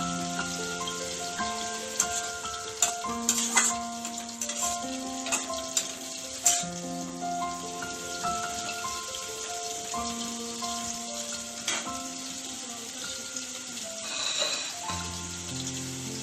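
Greens frying with prawns in a pan for a gourmet lau pata bata, a steady sizzle running throughout with soft scattered ticks and clinks, under a faint tonal background of music.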